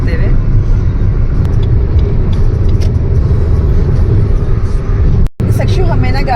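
Car cruising along the Eastern Peripheral Expressway in India, heard from inside the cabin as a loud steady road and engine rumble with a brief dropout near the end, while people talk over it.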